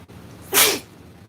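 A single loud, close sneeze bursts out abruptly, then quiet room tone returns.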